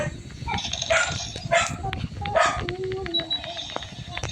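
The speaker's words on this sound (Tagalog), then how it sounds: "Ang ingay, ano ba yan? Parang aso din." Several sharp dog barks and yips from the video game Call of Duty ring out amid a noisy, busy background with some voices, close and fairly loud.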